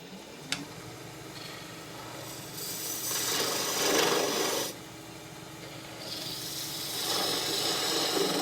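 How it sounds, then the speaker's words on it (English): A half-inch spindle gouge cuts wood on a lathe with a continuous rasping, shearing hiss that swells and eases as the tool moves, close and fairly quiet. "Here we have a 1/2 inch spindle gouge."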